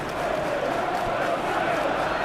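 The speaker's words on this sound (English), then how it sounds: "the crowd clearly like what they just saw" Football stadium crowd cheering after a solid defensive play in a Manchester City versus Southampton FA Cup semi-final, a steady dense roar sustained at even loudness throughout.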